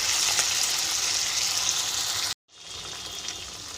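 Sago chops frying in hot oil, a dense continuous sizzle at close range, cut by a brief break and then resuming steadily.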